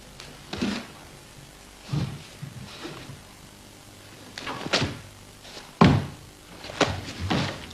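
Wooden bo staffs strike in karate practice, a series of sharp knocking thuds spaced irregularly, some single and some in quick pairs, close by with a faint hum between impacts.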